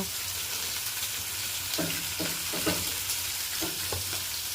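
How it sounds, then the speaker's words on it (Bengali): Potatoes fry in a pan with a steady sizzle, broken by a few clinking stirs, close and with no talking. "আলু ভাজা করছি"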